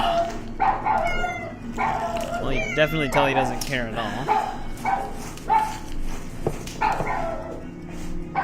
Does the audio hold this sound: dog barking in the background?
yes